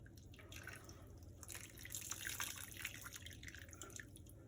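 Water trickles and drips steadily from wet dyed yarn into a sink, a soft continuous splashing patter, faint and close.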